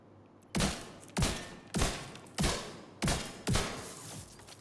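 Six evenly spaced rifle shots ring out in the Division 2 video game as a named enemy is fired on, each a sharp crack trailing off into a short echo, at moderate volume with no talk.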